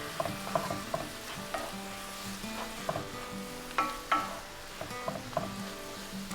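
Sliced summer squash sautéing in a pan, moisture cooking off: a continuous close sizzle broken by repeated stirring scrapes and clacks of a utensil against the pan.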